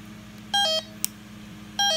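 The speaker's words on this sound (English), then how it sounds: "So it's doing the trouble tone." A Bosch B-Series alarm panel sounds its trouble tone, two short bursts of electronic beeping with a pause between them over a low steady hum, plus a brief click in the middle.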